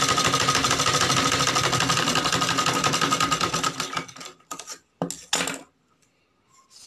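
Sewing machine running a second pass over a freshly stitched choli blouse seam, a steady dense whir for about four seconds, then stopping and starting in short bursts before falling quiet.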